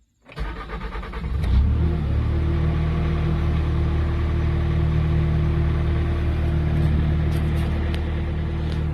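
A Bobcat loader engine cranks briefly, catches and fires up, then settles into a loud, steady, close diesel idle with a constant low rumble.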